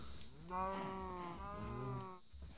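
A single long, low moo from a cow on a video game cow farm, clear and moderately close over quiet background hiss, with no talking.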